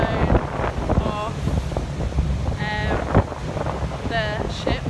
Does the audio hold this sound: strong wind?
yes